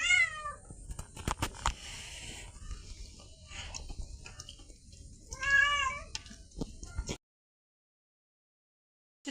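A cat meows repeatedly, loud and close, with a long drawn-out cry at the start and another near the end, sharp clicks between, then silence.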